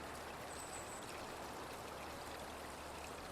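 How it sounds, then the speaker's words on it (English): Flowing stream in the Gabriel Knight 3 video game, a steady, even rush of water heard alone, soft and somewhat distant, with no breaks or changes. "There's a stream down there. I can't see it too well, but I can hear it."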